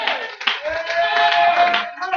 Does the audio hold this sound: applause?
yes